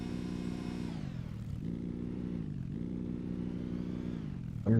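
A vehicle engine in the video game Scrap Mechanic drones steadily with a low harmonic hum, its pitch dipping and rising a couple of times as it works, close and continuous with no talk.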